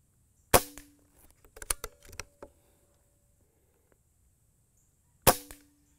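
Two sharp, loud shots from a Benjamin Marauder .22 air pistol firing copper-plated pellets, a few seconds apart, with faint clicks and handling noises between them.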